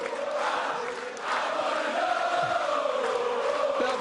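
Large darts crowd at Lakeside roaring and singing together in a continuous, dense wash of massed voices, steady and loud throughout, with no single speaker standing out.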